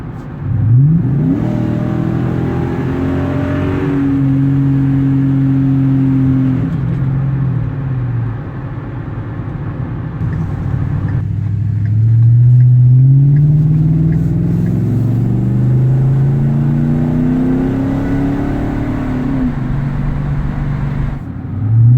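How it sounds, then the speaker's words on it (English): A Ford Super Duty 6.2 with a 4-inch Flowmaster exhaust runs at wide open throttle, its loud engine note climbing through repeated rising pitch sweeps between gear shifts, heard from inside the cab with the windows up. "This is going to be a wide open throttle, like passing scenario here."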